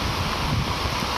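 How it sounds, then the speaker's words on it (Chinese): Strong typhoon wind howls steadily across Jinzhen Mountain in Taitung during torrential rain, a loud, unbroken roaring rush with no voices. "强风不断呼啸"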